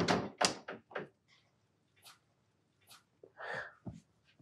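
A door being closed indoors in a home, heard as several close, sharp thumps and knocks followed by softer scattered bumps and movement.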